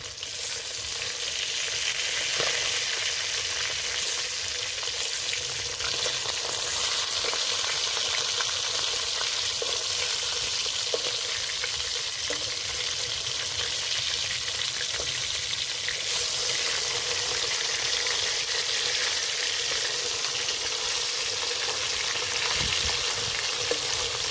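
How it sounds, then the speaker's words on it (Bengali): Freshly flipped shol fish keep frying in hot oil, a dense, steady sizzle full of small crackles and pops, heard close and alone for the whole stretch. "এবার মাছগুলো উল্টে দেবো"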